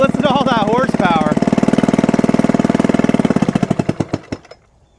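An old outboard boat motor pulled from the trash runs loudly and close with a rapid, rough mechanical chatter, then sputters into slowing separate putters before cutting out, with brief voice-like whoops near the start.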